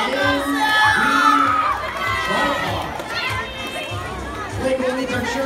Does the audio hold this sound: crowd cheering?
yes